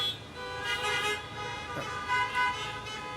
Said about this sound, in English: They definitely deserve a honk.